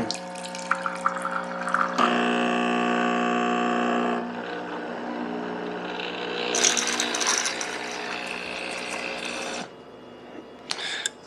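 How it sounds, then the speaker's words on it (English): A De'Longhi La Specialista EC9335R espresso machine priming, with a close steady pump hum carrying water, then a hissing rush, quieter running and brief mechanical clicks at the end, with no talk. "now I'm gonna go through priming the machine."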